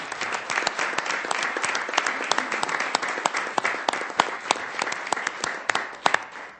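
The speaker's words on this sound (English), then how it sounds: "let's give these folks a round of applause" Applause at a city council meeting in Sioux Falls, a crowd clapping steadily in a room with sharp individual claps standing out, sustained for several seconds and thinning slightly near the end.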